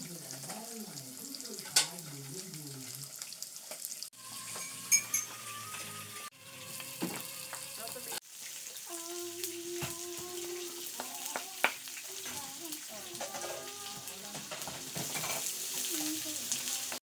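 Chopped onion and garlic sizzle and pop in hot rendered pork fat, a steady crackling fry at moderate level, with a few clinks and scrapes of stirring and quiet bits of background talk and sound on top.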